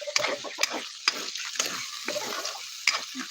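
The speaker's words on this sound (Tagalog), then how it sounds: "Lutuin natin yung ano, giniling." Ground meat stirred and fried in a pan for adobong sitaw, a steady close sizzle broken by repeated scraping strokes of the utensil.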